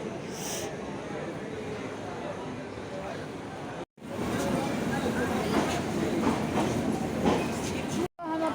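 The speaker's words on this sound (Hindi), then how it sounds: "ट्रेन के पास मतलब जो जाने वाली ट्रेन है तो गरीब रथ के पास खड़े हैं" At a railway station platform, a Garib Rath train stands nearby. There is a steady broad rumble of rail noise and station ambience, broken by two brief cuts, and a person talks throughout.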